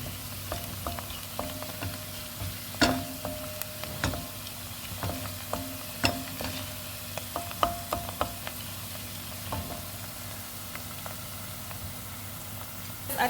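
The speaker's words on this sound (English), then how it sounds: "So now let's cook our onions." Onions fry in hot olive oil for goat pilau, giving a steady, fairly quiet sizzle broken by scattered sharp pops and occasional stirring clicks.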